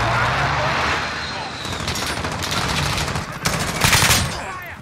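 Gunfire in Call of Duty, repeated rapid automatic bursts growing louder toward the end, heard under a player's excited talking.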